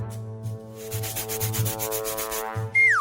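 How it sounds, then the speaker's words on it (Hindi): A simple hand saw rasps back and forth through a very large burger in a rhythmic series of strokes, close and steady. Sustained musical tones play underneath, and a rising whoosh effect cuts in at the end. "इसके लिए हमें एक साधारण आरी चाहिए।"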